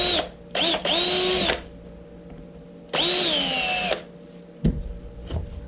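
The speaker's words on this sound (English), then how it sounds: "put the block of wood inside of here so I can drill through" A power drill whines in two long bursts drilling through a wood block, briefly stopping between them, then a few clunks as it winds down. Close and loud, no talking.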